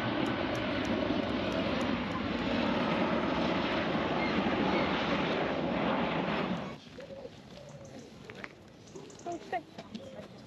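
A Ryanair airliner passes overhead near Speke Hall, a steady loud jet roar for several seconds that drops away sharply, leaving quiet outdoor ambience with faint scattered voices.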